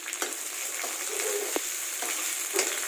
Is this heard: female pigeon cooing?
no